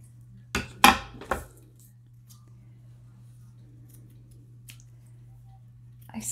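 Large scissors with roughly 11-inch blades snip through paper craft tags in a few quick, close cuts near the start. Quiet room tone and faint rustles follow, then a couple of soft handling clicks at the end.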